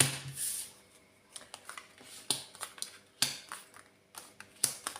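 A deck of tarot cards being cut and handled: scattered soft clicks and papery snaps at irregular intervals, close and fairly quiet.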